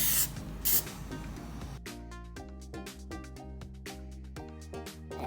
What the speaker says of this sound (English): We spray the pan.